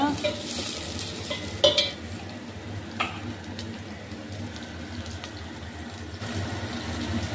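Salted onions sizzle in a hot pan while being stirred, a steady frying hiss broken by a few sharp scrapes and clinks of the spoon against the pan, close and fairly loud with no talking.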